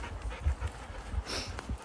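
Quick rhythmic dog panting close by, short breathy puffs repeating steadily over faint outdoor background.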